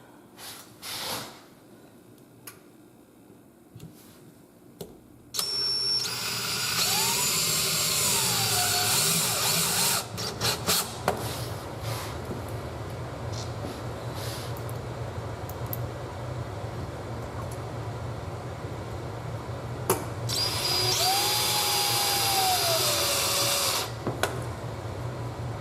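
Two loud bursts of a power drill driving anchors into a wood subfloor for several seconds each, separated by quieter tool clatter, close by and without talk.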